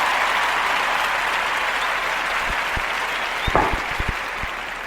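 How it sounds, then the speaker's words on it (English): Steady crowd applause rolls on throughout, with a few sharper knocks and thumps near the end. "Hey, round of applause, man."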